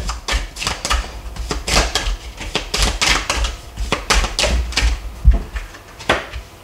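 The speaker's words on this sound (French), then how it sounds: "j'ai des cartes qui tombent" Tarot cards being shuffled and dropped onto a surface, a rapid series of crisp slapping flicks and soft thuds in uneven bursts, close and fairly loud, with no talking.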